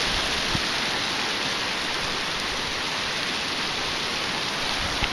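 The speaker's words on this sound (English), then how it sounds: "My god, there's hail everywhere." A hailstorm pours down steadily, a dense, even hiss of hail striking surfaces all around, loud and unbroken with a few faint sharper impacts and no talking.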